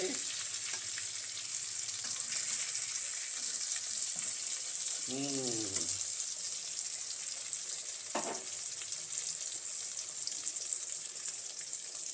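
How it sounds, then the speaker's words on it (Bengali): Ash gourd slices sizzle steadily in a frying pan, a constant close hiss of hot oil running throughout, with a couple of brief scraping stirs or flips partway through. "এই যে ভালো ভাজা হচ্ছে উল্টা পাল্টে"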